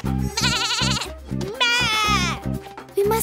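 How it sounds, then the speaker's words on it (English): A cartoon baby goat bleats in high, wavering cries, two or three loud calls in a row, over a steady musical backing with no talk. "Baby goat! Baby goat!"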